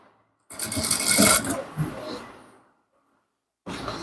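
A sewing machine stitching Ankara pants runs in one close, rattling burst of about two seconds, fades off, then starts again briefly near the end, with no voices.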